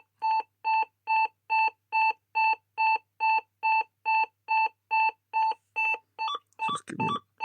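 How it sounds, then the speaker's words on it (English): An ADE Optima Mk7 burglar alarm panel beeps in a regular, loud series of about sixteen evenly spaced electronic tones, each tone the same, then the pattern breaks into a harsh noisy burst at the end. "the Elmdene noise is extremely loud"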